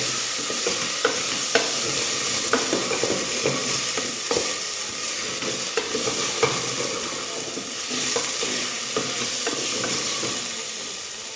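Chopped tomato sizzles in a hot pan, a steady bright frying hiss with irregular scraping clicks of stirring throughout, close and alone, during preparation of a mutton nonbu kanji Iftar dish.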